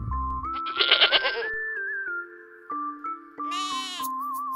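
A goat bleats in a quavering burst, then a second short bleat follows, set against a light whistled children's tune.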